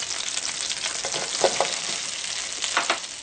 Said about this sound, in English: Now that the butter is melted, throw in 2/3 cup of brown sugar